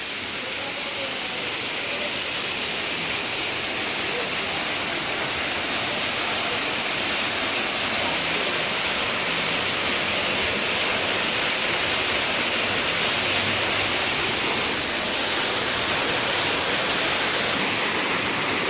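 A monsoon-season waterfall in Meghalaya roars as a loud, dense, continuous rush of falling water, heard close and unbroken throughout.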